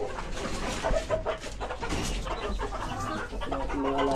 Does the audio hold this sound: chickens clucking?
yes